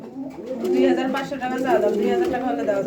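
Pigeons, Telmark breed among them, coo in repeated soft, throaty rolls at a market stall offering birds for sale, close and fairly loud, with voices of people talking around them.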